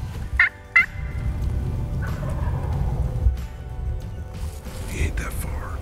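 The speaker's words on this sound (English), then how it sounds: "We'll do that 100 times before we get a gobble." Wild turkeys gobble during an Iowa spring hunt: two sharp, fairly close gobbles open the stretch, followed by hushed talk, rustling, and another distant gobble near the end.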